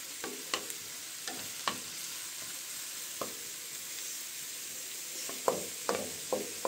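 Chopped onion fries in oil for pilaf rice with a steady soft sizzle, punctuated by scattered scraping and clinking stirs of a utensil against the pan.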